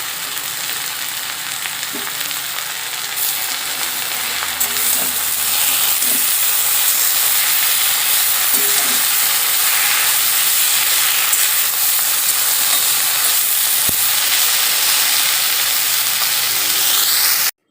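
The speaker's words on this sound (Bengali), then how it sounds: "পাট শাক ভাজা হতে হতে আমি মাছে মাখিয়ে নেব লবণ আর মাখিয়ে নেব হলুদ।" Jute greens frying in a pan with a loud, steady hiss of sizzling oil that runs without a break, with a few faint clicks underneath.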